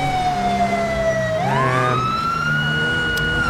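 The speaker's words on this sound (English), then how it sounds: "as far as the siren goes, that's just what I'm using for this pack" Emergency vehicle siren from GTA V with the LSPDFR police mod, a loud wailing tone that sweeps upward and holds high, with engine rumble beneath and a brief spoken word.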